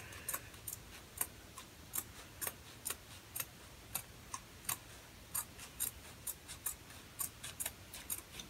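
Scissors snip straight across flannel fabric in a quick series of crisp, regular cuts, close and fairly quiet, with no talking.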